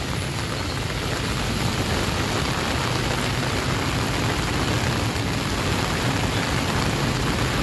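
Heavy rain pours steadily over the Rizal Monument at Luneta, a dense, unbroken hiss that stays loud and even throughout with no voices.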